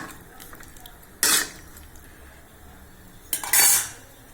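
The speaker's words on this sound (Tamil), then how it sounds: "இப்போ நம்ம இதை மூடி வச்சிடலாம்" A metal lid set down on a pot of simmering chicken kulambu, two sharp clanks of metal on metal about two seconds apart, close and loud over a quiet kitchen.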